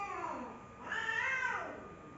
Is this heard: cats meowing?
yes